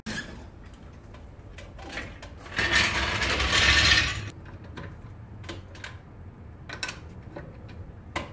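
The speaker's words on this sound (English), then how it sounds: "Now I can lower it down, tighten one more time to verify," Wrench tightening the lug nuts on a Saab 9-3 wheel after the car is lowered, a burst of ratcheting mechanical clatter for about a second and a half, with scattered clicks and knocks before and after.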